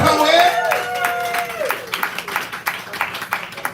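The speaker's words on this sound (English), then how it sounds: "Clap it up, clap it up, clap it up." Audience at a live poetry slam cheers with loud whoops at first, then settles into steady clapping that continues in a rhythmic patter, with voices shouting over it.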